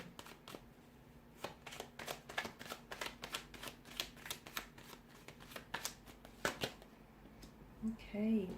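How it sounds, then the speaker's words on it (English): Tarot cards are shuffled in a steady series of crisp, close riffling bursts, with a brief voice murmur at the end. "So I'm going to give the cards a shuffle and see what's coming up for you."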